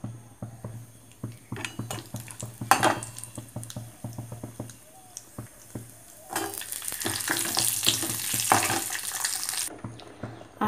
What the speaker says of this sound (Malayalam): കാഷ്യനട്ടും ദ്രാക്ഷയും കൂടെ നമുക്ക് നെയ്യിൽ വറുത്തെടുക്കാം.